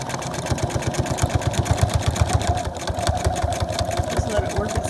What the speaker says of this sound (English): So again, just sewing down my stitching lines.